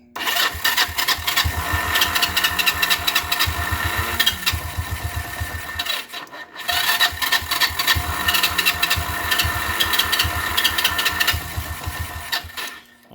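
A 1977 Kawasaki 200 motorcycle engine with a replacement carburetor fires up and runs with a rapid, uneven putter, cutting out briefly before catching again and running on.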